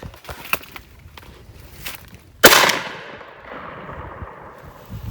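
A single sharp 12 gauge shotgun blast firing a high velocity buckshot load over a chronograph at a range, with a loud crack that decays into a short rumbling tail, preceded by faint shuffling.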